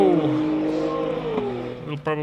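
A race car at the Simola Hillclimb climbs through its gears, the engine note falling and then rising again, heard under a commentator's voice.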